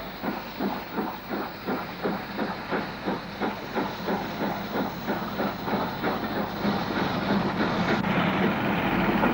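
Steam train 6690 pulling out of Nelson station on the Vale of Neath line, rhythmic heavy chuffs with hissing steam, the exhaust beats evenly spaced and steady, loud and close, no talk.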